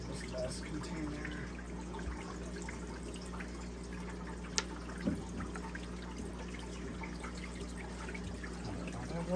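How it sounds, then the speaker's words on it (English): Water runs and trickles into a container being filled for fish fry, a steady low gurgle with a couple of small clinks and drips along the way. "Get some water in this last container."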